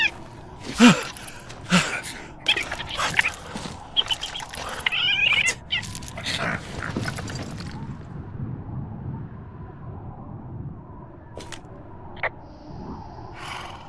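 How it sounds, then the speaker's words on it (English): A raccoon attacks near an old lookout in the video game Firewatch, with a burst of harsh, scrappy snarls, squeals and scuffling thumps up close. It fades to a quiet outdoor hush with a few sharp clicks afterward. "I'm sniffing around an old lookout and I got attacked by a raccoon."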